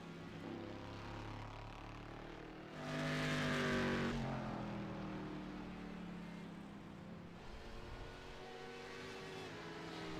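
An American muscle race car in a sim racing game charges around the Red Bull Ring, its engine droning steadily throughout and swelling louder for a moment as it passes close by.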